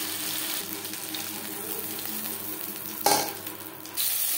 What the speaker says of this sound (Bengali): পরের মাছ একইভাবে ভেজে নেব